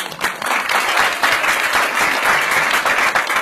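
Audience applause fills a parlour at a mentalism show, a dense, steady wash of many hands clapping close by that holds evenly from start to finish.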